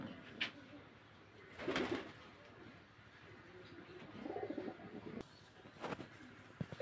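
Adult pigeons offered for sale cooing softly at close range, a few low throaty coos spread across the stretch with faint rustling and background noise, no talk.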